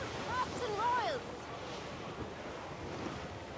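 Pirate ship under full sail in Assassin's Creed Black Flag, with steady rushing wind and surging waves filling the background at moderate level, a brief whistle-like call near the start, and someone speaking over it.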